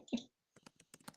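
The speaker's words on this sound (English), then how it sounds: "I'll type it in the chat." Someone types on a computer keyboard while joining an online meeting chat, producing faint, irregular key clicks in small bursts.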